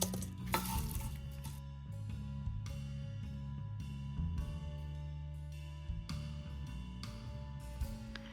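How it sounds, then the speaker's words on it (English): Roasted potatoes tipped and stirred into a pan with rosemary and garlic, giving a run of close clattering scrapes and soft knocks against the pan over a steady low kitchen hum, with no talking. "Put the rosemary and garlic in the same pan that we used to marinate the potatoes and then move the potatoes there"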